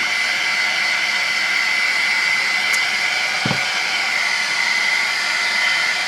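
Heat gun blowing steadily on a painted surface to flatten a bubble, a constant loud airy hiss with a faint tonal whine, running alone with no talk and one brief thump midway.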